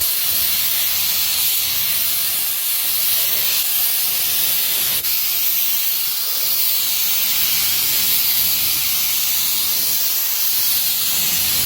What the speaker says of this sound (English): Now we're ready to spray. Lay it nice and wet.